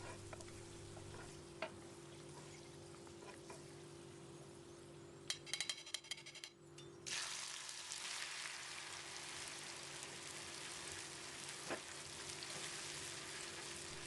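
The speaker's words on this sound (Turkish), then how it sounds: "Ardından da diğer sebzeleri peş peşe kızartmaya devam edeceğim." Vegetables hit hot oil in a frying pan. A faint sizzle builds after a few seconds of quiet kitchen clatter, then continues steadily with small pops and crackles to the end.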